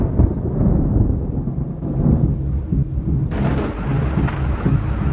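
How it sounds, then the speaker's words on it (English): Thunder and rain sound effects in an electronic music mix: heavy, rolling thunder rumbles over steady rain hiss, loud and close, with a thin high tone running through. "I just wanted to put a little bit of thunder noises and rain in it."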